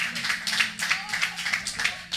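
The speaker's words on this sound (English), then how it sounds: "Yeah, keep clapping." An audience at a student pitch-competition event claps in quick bursts, a bright, fairly quiet patter of hands over a few seconds, with some voices mixed in.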